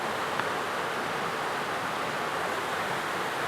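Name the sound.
waterfalls in Jamaican mountains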